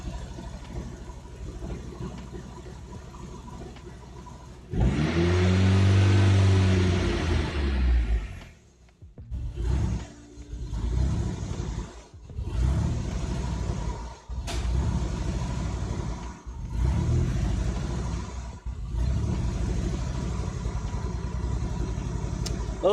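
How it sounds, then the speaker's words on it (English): A car engine recently converted to turbo idles roughly in a garage, a loud steady rumble that dips and surges unevenly several times as the idle struggles to hold. "we're at least getting it to idle to some degree"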